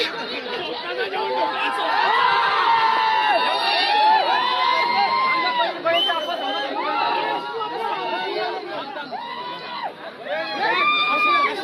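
A crowd at a bullock cart race ground cheers a winning bull, with loud excited chatter, shouting and celebratory yells, children's voices among them, holding close and steady throughout.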